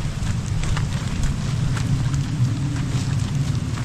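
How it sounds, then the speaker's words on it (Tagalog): Blustery storm wind roaring against the microphone with rain-like hiss, a continuous rough rush that swells in gusts, during a typhoon with rain. "Hampas ng hangin."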